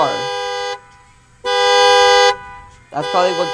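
A car horn honks in the FNAF Sim video game: three loud, flat toots of about a second each, separated by short gaps.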